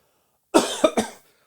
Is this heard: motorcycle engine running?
no